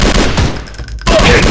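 Gunfire in a mobile shooting video game played on Android: loud, dense bursts of rapid shots crackling close up, broken by a brief lull before another volley.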